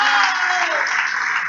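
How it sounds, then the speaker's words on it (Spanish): A church congregation applauds loudly for the Lord during a sermon, a dense continuous clatter of many hands with a voice faintly audible underneath. "Dale ese aplauso fuerte al Señor."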